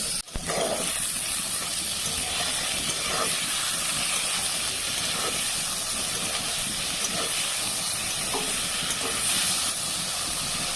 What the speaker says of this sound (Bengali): দিয়ে এখানে প্রথম বেগুনগুলো আমি ভেজে নেব।